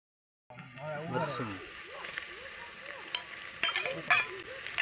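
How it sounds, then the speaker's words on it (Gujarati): Onion frying in oil in a home kitchen gives a steady, close sizzle with soft scraping as it is stirred, and a person talks over it throughout. "ડુંગળીને આપણે થોડીક વાર તેલમાં પકાવવાની છે"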